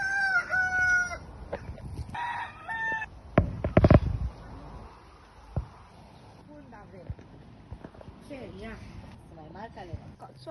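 Chickens cluck and a rooster crows loudly at a farm in Tannaghmore Gardens, with several crowing calls early on and scattered clucks after, while people talk nearby.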